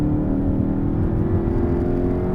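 A Volkswagen GTI with a manual stick shift accelerating hard out of a corner, its engine a steady, droning hum with a rising tone, heard from inside the car at moderate volume without talk.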